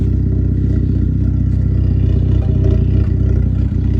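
A 2006-2009 VW Mk5 GTI fitted with a new downpipe holds a steady, close, deep engine rumble with a faint clattering texture and no sharp rise in revs.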